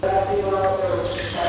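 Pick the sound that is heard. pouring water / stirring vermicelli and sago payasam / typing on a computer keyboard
pouring water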